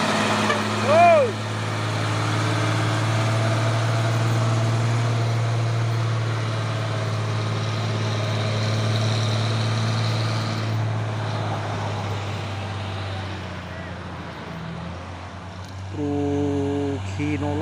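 A Hino truck engine idles with a steady, low, rumbling drone that holds evenly throughout, joined by a brief voice near the start and a short tonal sound toward the end.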